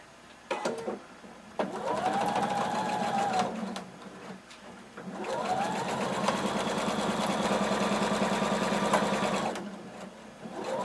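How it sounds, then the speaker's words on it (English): A sewing machine stitches a kimono seam from one end around the neck and down the other side over bias binding, running in two long, steady bursts up close with a short pause between them. "we're going to sew all the way around through the neck and down the other side"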